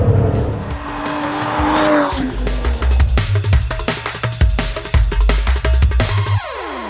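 An Aston Martin DB11 works hard around a race track, the engine rising and falling through gear changes while the tires squeal and skid in long sweeping bursts, loud and close.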